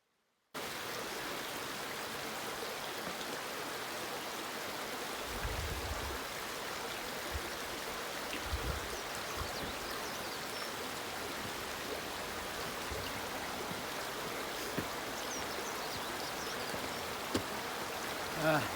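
The river Outcrop flows beneath a bridge, a steady wide hiss of running water that continues evenly throughout, with faint low thumps of footsteps or handling.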